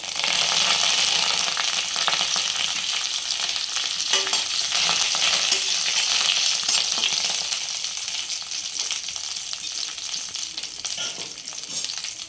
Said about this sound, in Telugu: అవి కొంచెం చిటపట అన్నాక